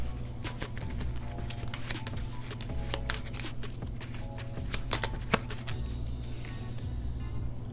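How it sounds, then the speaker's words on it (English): Cards for the Shifting Stones tile-laying board game are shuffled by hand at close range, a run of crisp riffling and sharp snapping flicks repeating steadily for several seconds. "go ahead and shuffle this"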